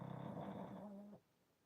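A pug snores close by, a low rumbling, growl-like breath that drones steadily for about a second before cutting off into near silence.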